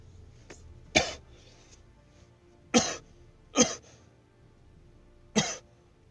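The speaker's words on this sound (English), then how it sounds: "Can't shake this cough." Four harsh, separate coughs from one person, close and loud, spaced a second or two apart over quiet background hum.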